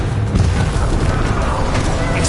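Bombarda blast spell cast in Hogwarts Legacy, a dense, rumbling boom that stays loud and full across the whole short moment with no clear gap.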